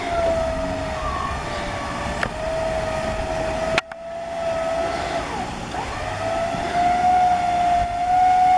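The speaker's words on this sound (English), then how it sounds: "So he's getting the winch going." A winch pulls a bogged 4WD vehicle at Burraga Dam, a loud continuous mechanical whine with a steady tone that shifts slightly, broken by one sharp knock midway before resuming.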